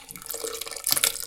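Cooked plums in water poured from a pot into a container, a short splashy liquid pour with a brief burst of sloshing near the end, close and moderately loud.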